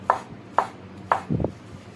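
A knife chops banana into small pieces on a board, with three crisp, evenly spaced cuts and then a softer double knock, close and clear with no voices.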